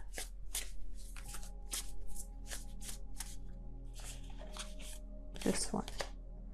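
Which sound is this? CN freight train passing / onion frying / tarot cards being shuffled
tarot cards being shuffled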